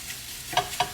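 Thanksgiving stuffing cooks in a pan with a faint, soft sizzle, broken by two quick stirring scrapes near the end.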